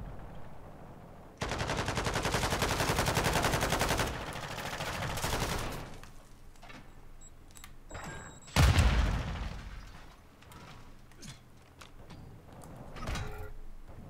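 Rapid automatic gunfire in Call of Duty MW2 on PS5, a dense loud burst lasting a few seconds followed by quieter shots, a sharp close blast and scattered distant firing.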